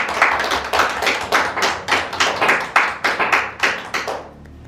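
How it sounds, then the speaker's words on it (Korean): A church congregation at a Palm Sunday service claps together in a steady, rhythmic unison beat, about a dozen sharp, close claps, before the sound stops and a brief ringing fades. "박수로 하나님께 영광 올려드립니다."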